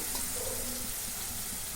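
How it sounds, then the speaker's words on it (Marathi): Water poured from a mixer jar into a pan of spices for egg curry, a brief steady splashing rush that stays level and continuous throughout. "पाणी ओतून घेते"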